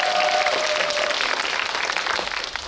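Audience applause at a Korean film screening Q&A, a steady dense wash of many hands clapping throughout, gradually tapering toward the end.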